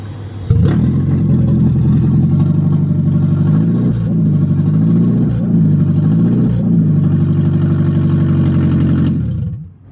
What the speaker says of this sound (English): So here's what a straight pipe Prius sounds like.